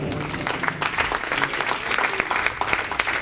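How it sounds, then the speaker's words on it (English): Audience applause for a speaker being welcomed onstage, steady dense clapping from a standing crowd throughout, fairly loud and close with scattered sharper claps. "Would you please stand and big round of applause for Tony Guattari."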